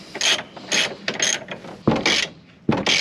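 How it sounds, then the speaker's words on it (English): A ratchet tightens a bolt during a car front end rebuild, with close, loud bursts of rapid clicking in about six short strokes separated by brief pauses. "now we're gonna get it tightened down"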